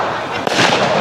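New Year fireworks going off, a loud sharp bang in the middle of a dense, noisy crackle of nearby bursts.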